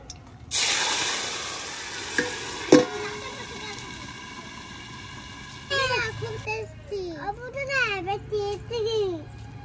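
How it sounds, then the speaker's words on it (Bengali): Gravy hits a hot tempering of radhuni seeds and bay leaf in a pan for a crab and greens curry, with a sudden loud hissing burst that fades, followed by people talking nearby. "এবার ফোড়নের ওপরে ঝোল ঢেলে দেবো।"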